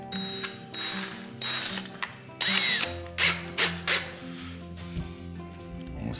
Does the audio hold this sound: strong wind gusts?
no